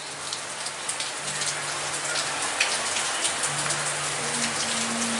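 Steady heavy rain pours down outdoors in Miami as a dense, continuous hiss, with a faint low hum running underneath.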